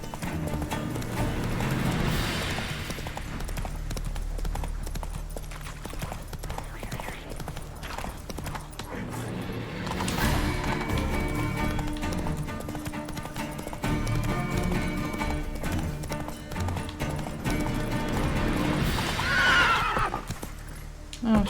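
Roach, the horse in The Witcher 3, gallops with steady rhythmic hoofbeats and an occasional whinny over game music, close and continuous throughout.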